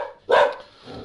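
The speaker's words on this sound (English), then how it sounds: "Freaking dogs." Dogs bark in a short, loud burst during a Batman video-game scene, then fade to a quieter background.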